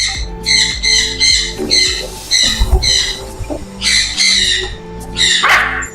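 Young local-breed parrot chicks, including lory and hill parrot babies, at a breeding setup in Karachi, squawking in repeated harsh, rasping bursts, close and loud, with short gaps and no talking.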